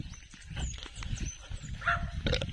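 Dogs bark outdoors in short, rough bursts, a few scattered yaps near and mid-distance amid background rustle.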